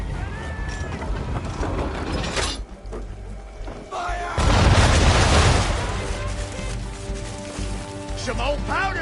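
A ship's cannon broadside fires in a naval video game, heavy booms and crackling blasts rolling together over continuous noise, with a louder burst midway and a voice speaking over parts of it.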